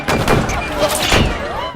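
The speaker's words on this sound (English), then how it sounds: "The pirates shooting people." Dense gunfire from pirates shooting in a film scene modeled on the Disneyland ride, a busy close barrage of overlapping cracks and thuds mixed with shouting voices.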